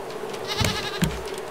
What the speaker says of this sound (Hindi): नीचे से भेड़ बकरी की आवाज़ आ रही है क्योंकि ऊपर से हमने खुला रखा है।